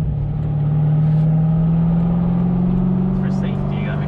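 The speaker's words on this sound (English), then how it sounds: "Now we are safely moving at highway speeds." A car's engine hums steadily and builds as it accelerates up to highway speed, a continuous close drone with road rumble, while people talk in the cabin.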